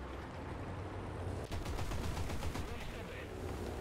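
M42 anti-aircraft gun firing in War Thunder, a rapid burst of repeated heavy shots over dense battle noise, fairly faint and continuous.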